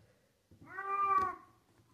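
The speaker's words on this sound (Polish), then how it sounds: "mój kot tutaj grasuje" A pet cat gives a single clear, drawn-out meow close by indoors, rising and falling over about a second in an otherwise quiet room.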